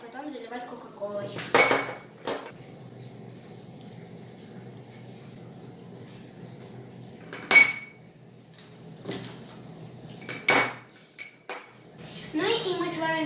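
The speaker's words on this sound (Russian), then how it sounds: "Ну и мы с вами всю банку уложили гайками." Rusty chrome wheel nuts dropped into a jar one by one, giving several sharp metallic clinks and clatters spaced a few seconds apart over a low room hum, with a voice talking in between.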